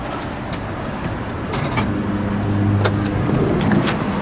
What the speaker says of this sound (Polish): Otwierają nam się drzwi.